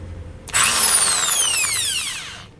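An electric drill starts up sharply, whining up to speed with a rising tone for about two seconds, then winds down, loud and close.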